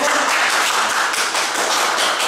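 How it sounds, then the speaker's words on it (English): A short, dense round of applause from a seated audience, loud and steady clapping throughout with no talking. "Give her a round of applause"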